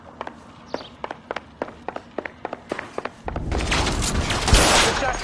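Gunshot in L.A. Noire, a run of sharp, evenly spaced cracks like footsteps or shots, followed by a louder sustained noisy blast that swells and fades.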